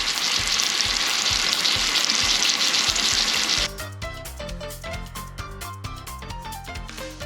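Pork sears in a hot pan with a dense, loud sizzle for the first half, then the frying abruptly gives way to a different, tonal sound with sharper repeated hits.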